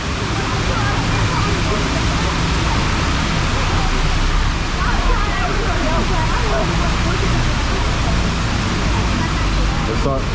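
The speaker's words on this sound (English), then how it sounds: "Looks like they fixed the water effect." Steady, loud rush of spraying water from a theme park ride water effect at Chessington World of Adventures fills the clip, a constant roaring wash with faint crowd noise underneath.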